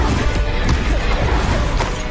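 Confringo blasting spell from Hogwarts Legacy impacts with a loud, crunching explosive crash, dense and sustained over about two seconds with a couple of sharper bursts inside the rumble.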